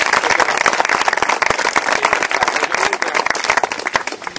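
A crowd applauding at the inauguration of a donated monument in a town's public garden: dense, sustained clapping from many hands, loud and close, continuing steadily.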